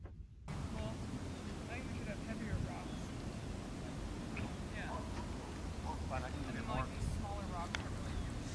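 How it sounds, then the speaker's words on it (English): Strong wind blows steadily outdoors across rural property during a wind advisory, a continuous loud low rumble of gusts buffeting the microphone, with faint higher chirps scattered through it. "the wind is really blowing"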